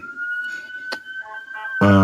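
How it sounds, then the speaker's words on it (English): An emergency siren on a snowy city street holds a steady, fairly loud tone, with short rasping blips partway through and a louder, buzzy harmonic blast at the end. "Hear the sirens."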